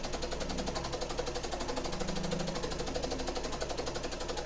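A scroll saw runs at 500 RPM, a steady close mechanical hum with a fast, even pulsing chatter from the reciprocating blade.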